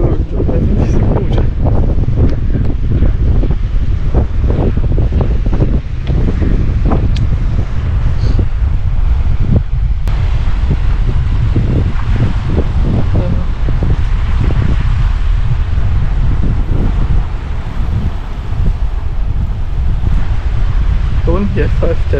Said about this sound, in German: Der Wind pfeift hier.